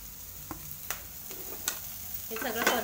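Finely chopped cabbage and red capsicum sautéing in a pan: a low sizzle with a few sharp spatula scrapes and taps, building to livelier stirring at the end, with no voices.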